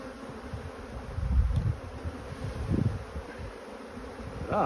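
A swarm of honeybees hums in a dense, continuous buzz, with louder passes as bees fly close by, and no voices present.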